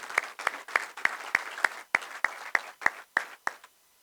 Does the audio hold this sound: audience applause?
yes